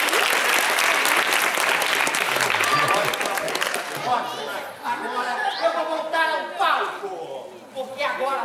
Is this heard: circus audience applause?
yes